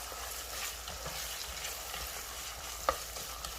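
Mushrooms frying with bulgur wheat in a pan, a steady soft sizzle with light stirring scrapes and one brief clink near the end, no talking.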